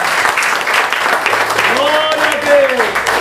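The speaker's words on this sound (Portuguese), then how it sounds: "Salve de palmas para Jesus." Church congregation clapping together in a steady wash of applause during a worship service, with voices and a sung tone rising over the clapping.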